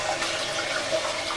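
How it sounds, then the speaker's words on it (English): A 1999 Cisa toilet tank flushes close up, a steady, dense rush of running water that fills the whole stretch without pause, with no voices. "This tank flush is going to be the very last flush."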